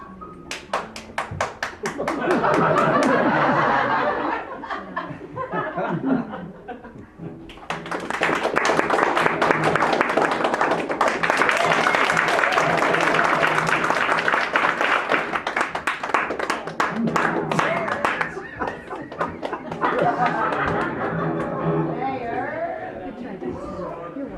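Audience at a live murder-mystery show claps in waves, bursts of applause rising and fading with chatter and voices mixed through.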